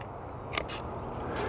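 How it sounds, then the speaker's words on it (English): One or two crisp snips from pruning shears cutting a grape vine cane in a vineyard, a short close cut against low outdoor background noise. "we'll cut it to where it meets the adjacent vine."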